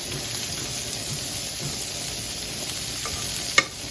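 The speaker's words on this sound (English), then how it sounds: "I'm going to just saute some of my onions and peppers" Onions and peppers sauté on a hot griddle, giving a steady, even sizzle with faint scraping of a utensil and a sharp clink near the end, heard close and without speech.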